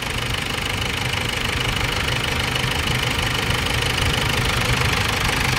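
2011 Ford Everest engine idling while warming up after work on its rocker arms, a steady close rumble with a rapid knocking texture, continuous and unchanging throughout.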